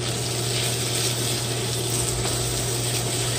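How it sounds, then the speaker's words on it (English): Red wine poured into a hot pan to deglaze it for a shepherd's pie, giving a loud, steady hiss and bubbling sizzle that holds evenly throughout, close up with no talk. "And now is when we want to deglaze it. So we're going to add some red wine."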